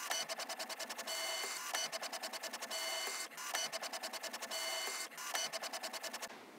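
3D printer printing robot chassis parts from filament, rapid rhythmic stepper-motor chatter in repeating bursts with brief pauses between passes, steady and close with no voices.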